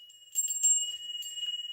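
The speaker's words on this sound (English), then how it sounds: "This is a Tibetan meditation bell" A Tibetan meditation bell is struck once, and its clear sustained ring starts, swells and keeps shimmering steadily at close range with no talk over it.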